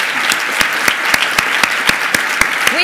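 Crowd applause at a human rights award dinner, with distinct claps coming through at a steady rhythm over a dense wash of clapping, moderately loud and close.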